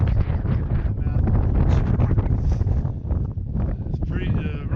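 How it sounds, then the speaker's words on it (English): Strong wind of about 25 mph buffets the microphone near the summit of Mt. McLoughlin, roaring and gusting continuously close up, with a voice speaking under it. "Wind's at least 25 miles an hour."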